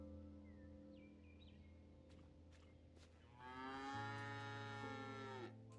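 A cow in the video game The Dead Tree of Ranchiuna gives a single drawn-out moo, rising clearly over quiet background game music and ending abruptly.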